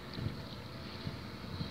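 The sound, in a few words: naval ship, maybe a frigate, sailing past on Thames Estuary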